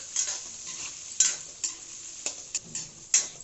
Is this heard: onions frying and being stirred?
yes